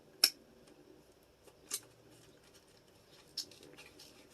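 A hole puncher cuts through a paper bookmark in a quiet room, giving a few brief, faint crisp snaps spaced irregularly apart.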